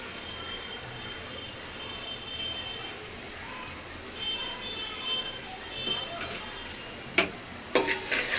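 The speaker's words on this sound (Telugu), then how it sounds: "ఉల్లిపాయలు అనేటివి కొంచెం బ్రౌనిష్ కలర్ రావాలి, కలిసి మగ్గాలి." Onions frying in a pan for homemade chicken pulao give a steady, moderate broadband sizzle, with a few sharp clinks of stirring near the end.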